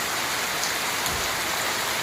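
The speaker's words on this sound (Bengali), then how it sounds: "বাইরে প্রচন্ড জোরে বৃষ্টি শুরু হয়ে গেছে" Heavy rain pours steadily outside during a power cut, a dense, even hiss of drops on surfaces that runs unbroken and fairly loud throughout, with no voices.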